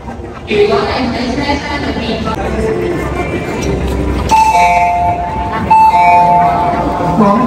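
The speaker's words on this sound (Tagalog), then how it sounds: "The train to Disneyland Resort is arriving." Train pulling into a station platform on Hong Kong's Disneyland Resort line, with steady rumbling rolling noise, tonal chimes and announcement-like tones partway through, continuous and fairly loud with people's voices mixed in.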